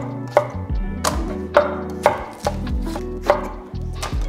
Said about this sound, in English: what I want to do is get all of my veg cut perfectly sized.